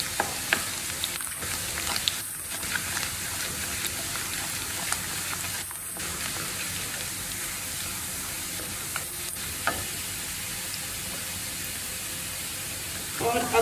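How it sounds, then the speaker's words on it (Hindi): Chopped garlic sizzles steadily in hot oil in a pan for methi matar malai, with occasional clinks of a spoon stirring, continuous and fairly close. "लहसुन को सौते करना है"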